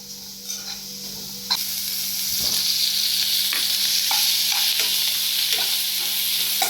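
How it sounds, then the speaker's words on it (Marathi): Onion dry-roasting in a pan without oil for a mushroom xacuti, a steady loud sizzle with occasional scraping stirs and light clicks, building after the first second and holding to the end. "कांदा सुकाच भाजून घ्यायचा"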